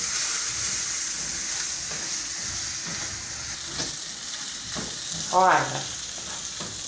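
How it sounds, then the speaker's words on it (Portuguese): Garlic sizzles and crackles in calabresa sausage fat in a pan, a steady close frying hiss with a brief louder burst near the end as a voice speaks a word. "Aí a gente agora coloca aqui o alho, deixa dar uma refogada."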